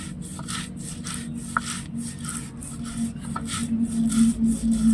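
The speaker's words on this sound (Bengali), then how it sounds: "এবার আমি সাদা সর্ষে বেটে নেব।" White mustard seeds being ground into paste on a grinding stone, heard as steady rough rubbing and scraping strokes that repeat in a loose rhythm, close and fairly quiet, with no talking.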